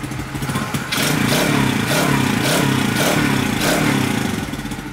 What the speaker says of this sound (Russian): Родная, родная Альфочка, ее звук. Правда, не прогретая немного.